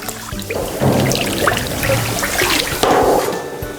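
Cheese curds and whey are stirred in a cheese vat at a Swiss fruitière, giving loud, close sloshing and swirling liquid sounds with splashes and a few knocks against the vat.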